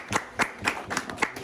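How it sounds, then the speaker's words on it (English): A small group claps for a volunteer at a classroom demonstration, giving a short burst of uneven, nearby handclaps in quick separate strikes. "Give yourself a round of applause."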